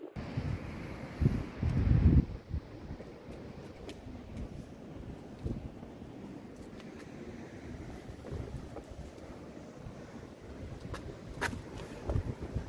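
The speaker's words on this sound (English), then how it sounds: "it's a very windy day today" Steady rushing wind buffeting the microphone, with a strong low gust early on, then a continuous blustery roar.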